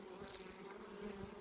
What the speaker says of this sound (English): You can see the bees are